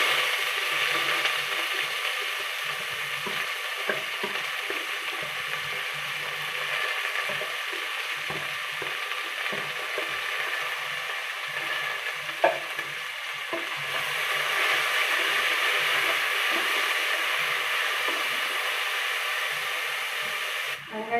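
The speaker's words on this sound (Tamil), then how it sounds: "எண்ணெய் காஞ்சதும் கடுகு போட்டுக்கலாம். கடுகு போட்டதும் வெங்காயம் போட்டுக்கலாம்." Mustard seeds and onions fry in hot oil with a continuous close hiss and crackle, dotted with small pops and occasional stirring clicks, holding steady throughout.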